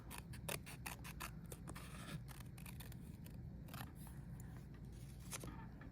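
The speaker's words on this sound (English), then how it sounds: "I'm just going to turn it, and as I'm turning it, I'm trimming it." Paper circle being trimmed with scissors while it is turned, giving a steady run of quick, close snips, most dense in the first two seconds and then spaced out.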